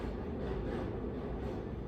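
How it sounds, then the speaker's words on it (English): A train passes outside in New York, a faint, steady low rumble that holds level throughout, heard from indoors with no talking. "sorry, there's a train coming."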